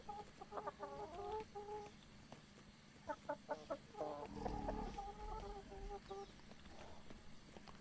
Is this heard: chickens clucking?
yes